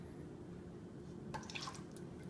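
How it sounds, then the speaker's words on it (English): Vegetable oil pours from a bottle into a half-cup measuring cup for a cake batter, a soft, quiet liquid trickle that starts partway through and runs for about a second over faint room noise. "And you're gonna take one of your 1/2 cups and just pour the vegetable oil in."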